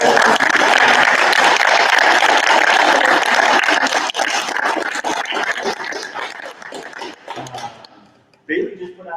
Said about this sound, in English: Can we give a round of applause to Bailey Miller?